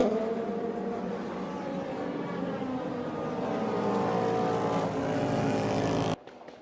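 A Porsche race car at the 2023 24 Hours of Le Mans drones steadily at moderate distance into the pit lane on a damp track, its pitch shifting slightly as it slows, then cuts off abruptly near the end.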